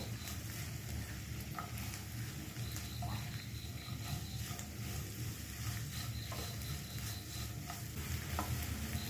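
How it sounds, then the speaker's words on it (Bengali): Capsicum and green chilli stir-fried over a high flame, with a constant dense sizzle and crackle and occasional soft scrapes of stirring throughout. "এবার গ্যাসটাকে হাই ফ্লেমে রেখে তিন থেকে চার মিনিট নাড়াচাড়া করব"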